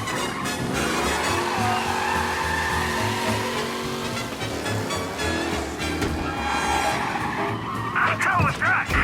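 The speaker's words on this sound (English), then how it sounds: "Officers reporting a race car driving at speed through the city." A race car in Mafia Definitive Edition roars at speed through city streets, its engine loud and continuous as tires squeal and skid through turns, with game audio filling the scene.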